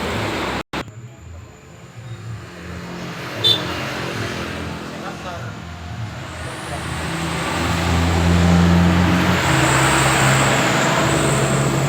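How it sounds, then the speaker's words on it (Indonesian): A fire truck passes on the road, a heavy engine rumble and tyre roar that swells steadily louder toward the end, with a sharp click near the start. "Mobil damkar bosku."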